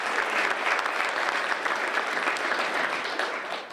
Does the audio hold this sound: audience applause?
yes